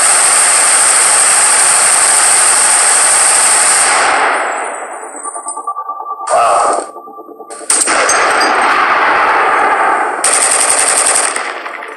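Gunfire tails captured at weapon recording sessions for the Overwatch 2 video game: loud sustained automatic fire rings out, then decays into a long reverberant tail, followed by further bursts and another echoing tail.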